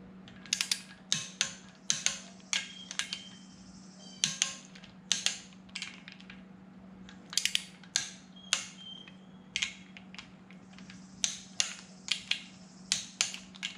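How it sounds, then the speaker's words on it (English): Metal clicks from a torque wrench tightening full-flow oil fittings on a 2332 VW air-cooled stroker engine, sharp bursts of ratcheting repeated in clusters throughout, close and fairly quiet over a steady low hum. "Where is the torque wrench?"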